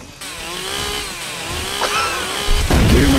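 A chainsaw runs in the video game Fortnite, a loud buzzing drone with a wavering pitch that revs up toward the end, with no talk over it.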